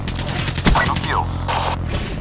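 Gunfire rattles in Call of Duty: Black Ops III, with a close burst of automatic fire followed by a few more scattered shots, mixed with game sounds and short radio-style voice lines.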